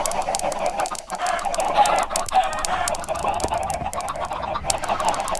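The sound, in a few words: chickens clucking in a coop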